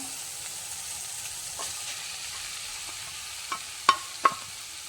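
Kerala-style egg curry being stirred in a pan, a soft low simmering sizzle with occasional spoon scrapes and a few sharp clinks against the pan toward the end.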